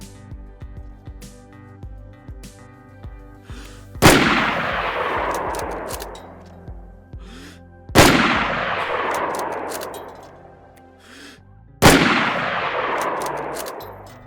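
Sniper rifle fire in the video game DayZ: three loud, sharp shots about four seconds apart, each with a long reverberant tail, preceded by faint mechanical clicks.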